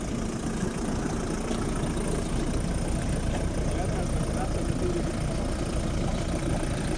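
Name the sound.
stuck vehicle's engine idling after being started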